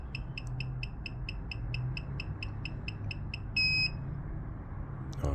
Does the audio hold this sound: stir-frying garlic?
no